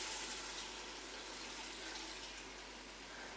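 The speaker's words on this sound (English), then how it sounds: "I'm just going to add some water" Water poured into a cooking pot holding browned meat and softened onions, a steady, fairly quiet rushing splash lasting a few seconds without speech.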